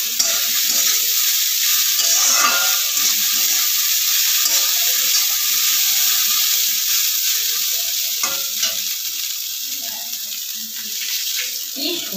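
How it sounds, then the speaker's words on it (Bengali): Drained flattened rice (chira) fries in a wok, giving a steady bright sizzle with frequent stirring scrapes throughout, fairly loud and close. "সে জল ঝরানো চিড়েগুলো, সেগুলো দিয়ে দিল কড়াইতে"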